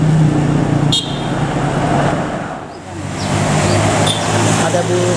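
A Yuanda Prima tour bus rolls past on a busy road, its engine and tyre roar swelling and fading amid steady traffic noise, with a brief horn toot and someone talking.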